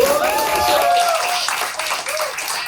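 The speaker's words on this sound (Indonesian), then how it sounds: "Jadi tepuk tangan untuk kesuksesan" An audience claps in celebration at a nature tour guide training event. The clapping runs steadily for about three seconds, mixed with tonal sounds, and fades slightly near the end.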